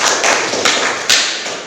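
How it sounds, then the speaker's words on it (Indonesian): A class of schoolchildren claps together in a loud, dense burst of applause heard up close, with a few sharper claps standing out. "Boleh silakan anak-anak berikan tepuk tangan untuk Dwi Apriliani."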